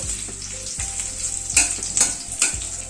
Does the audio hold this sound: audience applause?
no